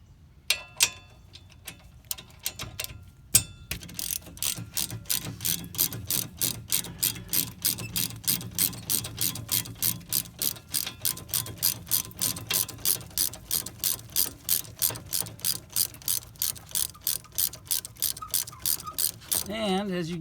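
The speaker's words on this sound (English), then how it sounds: "So what we're going to do is unscrew this." A hand ratchet clicks in a fast, steady rhythm while unscrewing a bolt on the front brake of a 2005 Ford Escape Hybrid, heard close up, after a few scattered knocks at the start.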